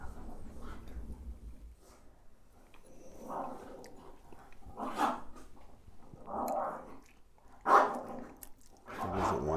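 Dogs barking in repeated separate bursts, some loud and near and others more muffled, spread irregularly across the span, with occasional voices in the background.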